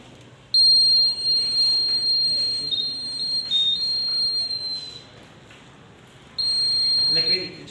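Laser and LDR security alarm buzzer sounding a loud, steady high-pitched tone, on for about six seconds, a brief pause, then sounding again, with people talking faintly in the background.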